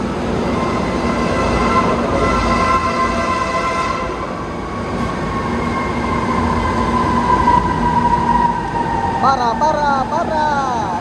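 Close rumble of a Manila MRT metro train in motion, with a steady roar and, near the end, a few sharp squeals of wheels or brakes.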